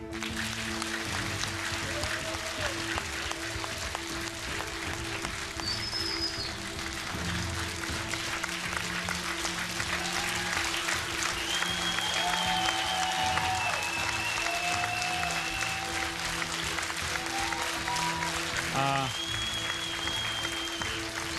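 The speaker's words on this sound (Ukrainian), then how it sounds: "І моя щира подяка їм і ваші аплодисменти." Steady, dense applause from a large audience at a televised singing contest final, continuing unbroken for the whole stretch, with a host's voice faintly mixed over it.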